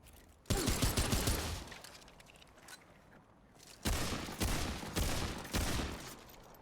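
Bursts of rapid gunfire from the Remnant 2 video game, a long volley up front and then three shorter loud bursts separated by brief quiet gaps, with no talking.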